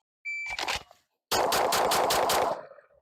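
Pistol shots fired at an outdoor shooting range: a short electronic tone and a shot or two, then after a pause a fast string of about seven sharp, loud reports, close up.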